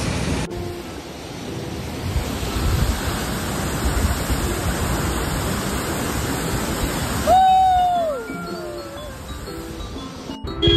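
Duduma waterfall in Koraput, Odisha roars steadily as broad, constant rushing water, and a short whistle-like tone rises briefly near the end.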